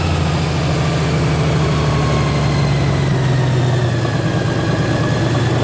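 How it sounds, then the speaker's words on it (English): A 2018 Honda GoldWing 1800 DCT motorcycle idling right after start-up, a loud, steady low engine drone close by with no break. "So the bike starts up."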